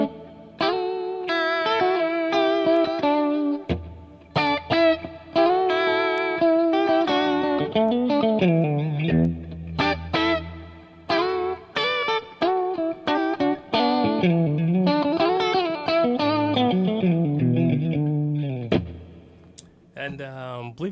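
Distorted electric guitar run through an Eventide TriceraChorus pedal, its swirling chorus effect on a melodic lead line with sustained notes and bends, loud and continuous.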